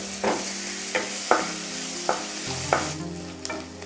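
Medium onion frying with cumin and asafoetida in a pan for a fish curry, a steady oil sizzle broken by about seven sharp spatula scrapes and stirs, close and fairly loud, no voices.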